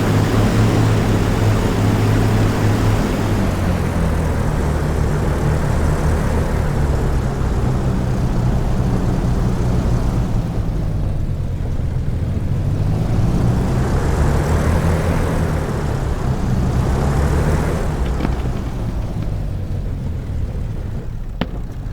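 Twin piston engines of a de Havilland Mosquito FB Mk.VI in the DCS flight simulator roar loudly and continuously during takeoff, the propeller drone swelling and dipping in pitch as power and speed change.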